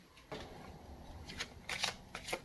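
Tarot cards riffled and shuffled close up, a series of soft papery flutters and snaps that grow brisker toward the end.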